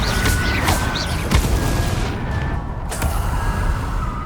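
Incendio fire spell cast in the Hogwarts Legacy video game, a dense whooshing burst with booming low rumble and crackle, followed by a second flare near the end, loud and continuous.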